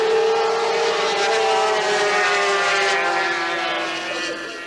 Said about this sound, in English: over the noise of the engines, you can hear the cheer of the crowd